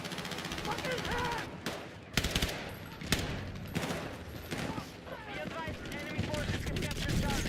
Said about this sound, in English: Gonna shoot some grenade launchers up there.